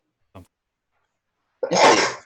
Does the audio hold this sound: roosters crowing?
no